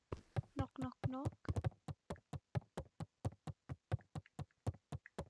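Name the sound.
knocking on a door in the video game Beacon Pines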